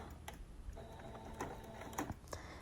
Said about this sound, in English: Now I'm turning it on a 45-degree angle, and I'm going to sew off the corner at that angle.